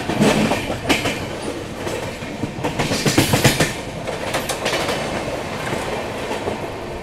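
Pushpak Express train running on the tracks near Jalgaon, giving a loud, rhythmic clickety-clack of wheels over rail joints with rumbling wagon noise throughout.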